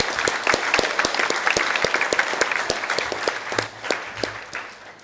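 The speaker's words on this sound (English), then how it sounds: "So big round of applause to our technical." An audience at a school junior prize-giving applauds the technical crew, with dense, steady clapping from many hands that fades slightly toward the end.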